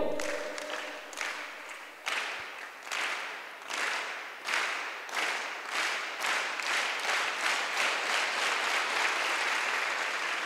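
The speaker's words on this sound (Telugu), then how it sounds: "సెలెక్ట్ అయిన వాళ్ళందరికీ మన అభినందన క్లాప్ తెలియజేయం." An audience at a job fair gives rhythmic, synchronized clapping for selected candidates, with repeated bursts of applause that grow denser and more continuous toward the end, fairly close and with no talking.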